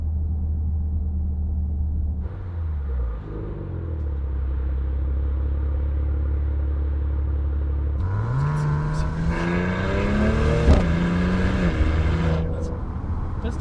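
A Maserati Levante creeps along at parking-lot speed with its exhaust valves open. It idles with a loud, boomy drone, then swells into a deeper, rising rev partway through, close and dominant.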